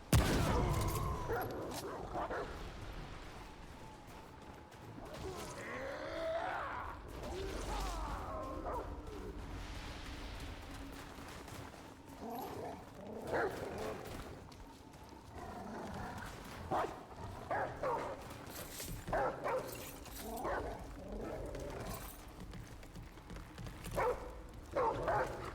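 Dog in the video game Remnant: From the Ashes barks, yips and whimpers repeatedly in scattered bursts over a long stretch, mixed with game sounds and occasional footstep-like clatter.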